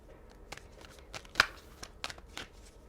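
Tarot cards are shuffled quietly in a series of soft riffles and flicks during a reading. One sharper snap stands out near the middle, and no one speaks.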